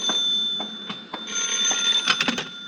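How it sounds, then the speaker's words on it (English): Telephone ringing in an old radio drama, with a steady bell tone and a few sharp knocks and clicks around it, fairly close and with no talk. "Answer the phone, will you?"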